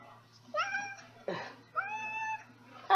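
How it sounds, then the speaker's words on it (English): A small hairless cat meows indoors, three plaintive, drawn-out meows close by with a short rustle between them, fairly quiet in a calm room. "He's got the saddest little meow."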